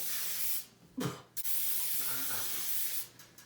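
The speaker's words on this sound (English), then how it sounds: "It's this Pam no-stick cooking spray." Pam no-stick baking cooking spray, made with flour, hisses from its can close up: a short spurt, a brief pause, then a long sustained spray with a quick burst trailing off at the end.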